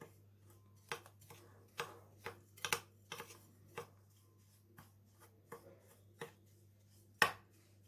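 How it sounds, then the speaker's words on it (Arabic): Biscuits are crushed into sand-like crumbs with a series of quiet, irregular crunches and taps, close by, over a faint low hum. "اقلب البسكوت بتاعي لما يبقى معايا زي الرملة كده"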